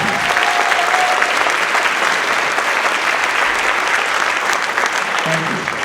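Audience applause at a high school winter concert, a steady dense wash of clapping from a large crowd filling the whole stretch without a break.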